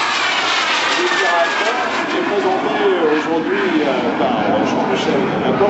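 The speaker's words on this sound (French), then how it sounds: "C'est un avion en réaction." A Morane-Saulnier MS.760 Paris jet aircraft at an air show meeting gives a steady, loud jet roar that holds throughout, with someone speaking French over it.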